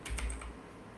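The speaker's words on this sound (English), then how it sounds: "we press enter and we start typing what we want to type" Typing on a computer keyboard while editing text in vi: a short quick burst of a few crisp key clicks at the start, then fading into quiet room tone, fairly close and soft.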